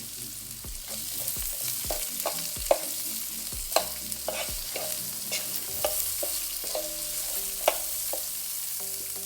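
Onions and tamarind fry in a pan for tomato onion chutney with urad and chana dal, a steady sizzle broken by repeated scraping knocks of a spoon stirring, close up.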